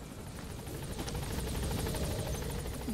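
Helicopter from the video game Metal Gear Solid V: The Phantom Pain, a loud steady rotor thump with rapid blade chop and engine whine, close overhead throughout with no voices.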